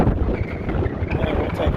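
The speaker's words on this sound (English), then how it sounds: "Really windy." Strong wind buffets the microphone outside an abandoned Bradlees department store in Hazlet, New Jersey, a steady, loud low rumble filling the whole moment, with a voice faintly present underneath.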